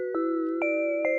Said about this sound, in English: That's the raw bell.